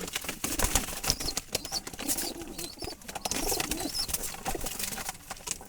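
Jalali pigeons in a loft coo in low, repeated calls and flap their wings now and then, close by and moderately loud against a steady background murmur.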